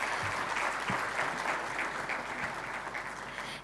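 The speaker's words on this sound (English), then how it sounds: "I think that needs another round of applause." Steady, dense applause from an audience at a Rwanda mining exploration event, sustained and even in loudness throughout without any talk.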